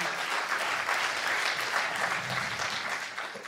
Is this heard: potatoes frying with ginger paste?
no